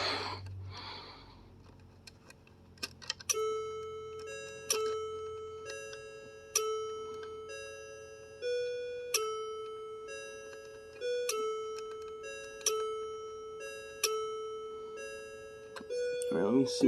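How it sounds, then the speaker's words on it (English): A Daniel Dakota Westminster chime clock rings out a steady sequence of bell-like chime notes, each struck tone ringing and decaying in a regular repeating pattern, moderately faint and heard alone without talk. "Listen to that clock."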